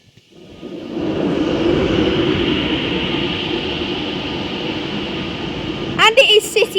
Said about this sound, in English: as this Pendolino boards into Warrington Quay now